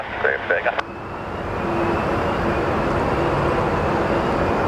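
A Southwest airliner on its takeoff roll from runway 7 left at Phoenix Sky Harbor, a loud steady engine roar that swells and holds after a brief burst of voices at the start.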